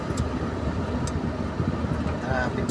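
Road traffic in Manila near the port, with a steady broad rumble of car engines idling and moving in congested traffic, a continuous low drone with faint higher noises and talk over it.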